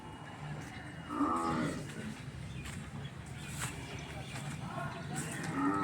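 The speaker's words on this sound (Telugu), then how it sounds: "ఆవులు, గేదెలు ఉన్నాయి." Cattle and buffalo at a rural livestock market in Jangareddygudem, with a cow lowing in a drawn-out moo partway through over steady outdoor crowd murmur and background chatter.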